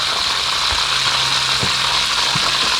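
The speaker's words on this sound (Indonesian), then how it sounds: "goreng tempe, itu goreng jengkol" Tempeh and jengkol fry in hot oil, a dense continuous hiss and sizzle at steady loudness with a few soft low knocks from the pan, heard up close with no talking.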